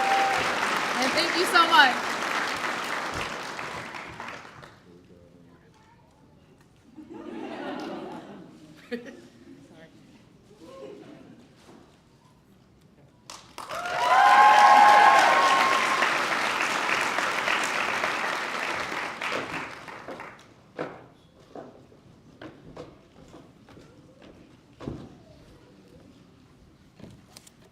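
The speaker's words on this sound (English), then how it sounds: "Give yourselves a round of applause" A white coat ceremony crowd for a medical class of 2026 bursts into applause in two separate waves, loud and full, separated by a quieter stretch with a few thanks spoken and scattered sounds before it fades.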